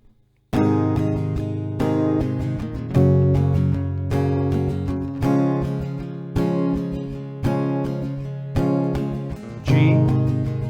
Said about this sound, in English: this chord progression for 4 rounds, it will sound like this. So I'm gonna play a couple rounds for you.